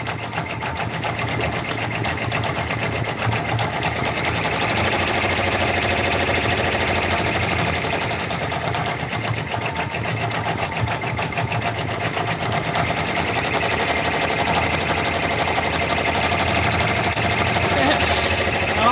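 An in-the-hoop embroidery machine stitching a raccoon stuffed toy, its loud, steady mechanical rattle and hum running continuously and close throughout.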